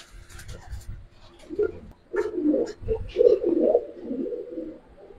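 Gribaz silver chila pigeons cooing in a loft, with several soft, rolling coos repeating close by over a low background of shuffling and faint voices.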